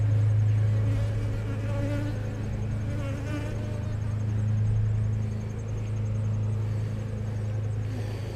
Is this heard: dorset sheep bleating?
no